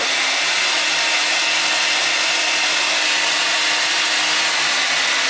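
A Revlon 1875W hair dryer running on its turbo setting, a steady, loud, continuous airflow roar with a faint motor hum underneath, filling the whole stretch without pause or talk.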